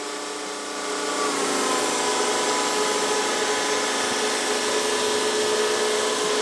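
Bissell CrossWave cordless wet-dry vacuum running over a hardwood floor, a steady loud motor whine with a hissing airflow that rises slightly in the first second, then holds constant.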